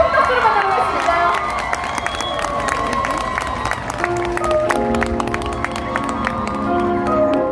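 A festival crowd at the Eunpyeong Pabalje stage cheers and claps to welcome a singer, loud mixed applause with shouts and whoops, backed by a sustained musical tone from the stage sound system.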